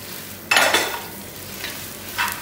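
About 25 halved shallots drop into hot oil for a chicken and shallot thoran, setting off a sudden close sizzle that fades as they are stirred, with a second scrape and sizzle near the end.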